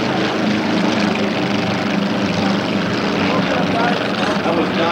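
Racing airplanes roar off from a standing start at the Reno National Air Races, a loud, continuous propeller and engine drone filling the whole stretch with no break.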